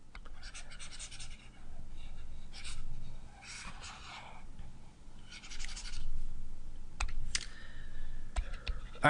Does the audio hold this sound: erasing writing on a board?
yes